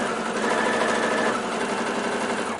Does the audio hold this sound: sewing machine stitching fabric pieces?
yes